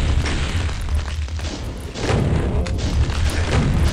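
Rocket explosions in the FDA Hellevator map of a first-person shooter: loud, dense booms and blasts rumbling almost continuously for several seconds, with no pause between hits.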